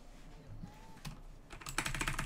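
Keys clatter on a computer keyboard as a terminal command is typed, faint and sparse at first, then building into a quicker burst of close, soft clicks with no talking.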